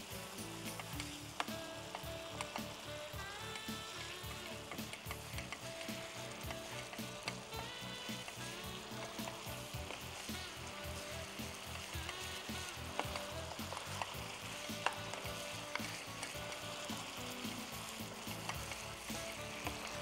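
Mango thokku bubbles and sizzles in a frying pan under a continuous hiss, with a regular stirring rhythm running through it.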